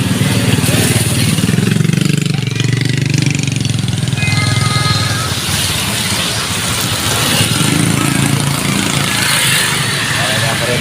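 Motorcycles run along a road in the Philippines, their mid-pitched engines humming and revving close by throughout, with someone talking over the steady traffic noise.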